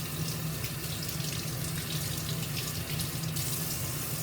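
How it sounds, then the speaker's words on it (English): Tap water runs steadily over an etched plate as it is rinsed, a constant close splashing hiss with no talk. "make sure to rinse the back of the plate"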